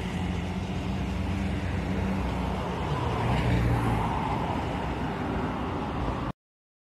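A Mira bus with a JetBus 2 body rolls past on the road, a broad steady engine and road roar that swells briefly mid-pass, loud and close with no talk.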